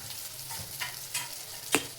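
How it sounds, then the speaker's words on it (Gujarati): Chili potato chips with Schezwan sauce sautéed in a pan, a close, low sizzle under a few scraping stirs of a spoon, ending in one sharper clink, with no talking. "થોડુંક સાંતળી લઈએ."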